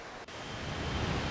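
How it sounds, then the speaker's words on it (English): Steady gusting wind noise buffeting the microphone outdoors near a waterfall on a snowy mountain, a broad continuous roar with no talk. "the wind is kind of squirrely over here near this waterfall"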